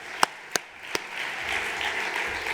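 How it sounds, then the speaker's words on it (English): An audience at a language teaching conference in Salamanca claps for the volunteers and organizers. It opens with a few sharp separate claps, then a thin, moderately distant round of applause settles in. "I'd like to give a round of applause to all the volunteers and the people who helped organize things here in"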